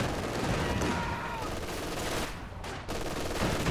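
Sustained LMG machine gun fire in a strategy video game, a continuous dense rattle mixed with other battle noise, steady and loud throughout with a brief dip near the end.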